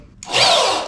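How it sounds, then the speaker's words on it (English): A power drill drives a screw into wood while building a rail for skating grinds, a short loud whirring burst that starts abruptly and strains steadily, close by with no talk. "have two drills, so you can drill the holes and then screw the thing in afterwards"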